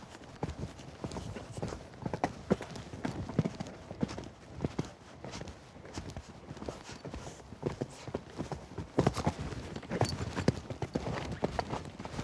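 Horse hooves thud and clip-clop through a show-jumping round in an equestrian arena, irregular strides landing with a few heavier impacts around the jump, fairly close and steady, with faint voices now and then.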